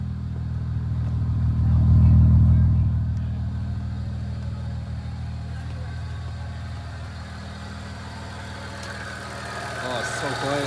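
A stage 3 tuned Audi S4 with the 2.7T engine idles at its first start, a steady low rumble that swells briefly near the start and then settles. A pump whines faintly on top, and a voice is heard over it.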